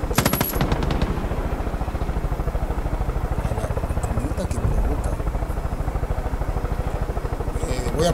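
A helicopter's rotor thumps continuously in Far Cry 5 while machine guns rattle in bursts over it, loud and close throughout.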